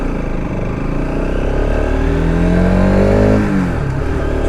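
A Bajaj RS200 motorcycle engine revs while riding, its rising and falling pitch heard up close over steady road and wind noise, with no talking.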